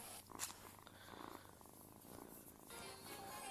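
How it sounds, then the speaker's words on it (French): A kitten purrs close by in a steady, soft rumbling rhythm, heard alone with faint background noise throughout. "J'ai un chaton avec moi qui ronronne comme je sais pas quoi."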